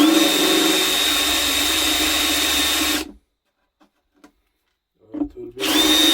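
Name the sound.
drill driving screws into a wooden router table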